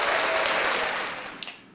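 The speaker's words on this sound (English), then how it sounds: "Let's give her a round of applause." A studio audience breaks into a loud, dense round of applause that fills the clip, then thins out and fades toward the end, a few last claps standing out.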